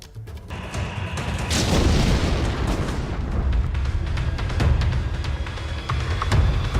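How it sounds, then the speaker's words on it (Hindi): Heavy artillery shelling in the city of Mariupol: a dense, continuous low rumble of booms and blasts, with sharper thuds breaking through near the start and middle, loud and sustained with no voices. "मारियुपोल में भारी गोलाबारी इस वक्त हो रही है।"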